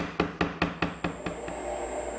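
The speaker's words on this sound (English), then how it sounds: "Now I'm using this gouge to carve out that gutter detail that I laid out earlier." A gouge carving a gutter detail into a wooden Windsor chair seat: six evenly spaced, sharp knocks that fade slightly, then a quieter pause.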